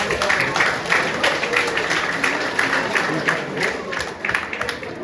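An audience at a football academy presentation claps in sustained, even applause, a steady crowd patter at moderate loudness lasting the whole stretch.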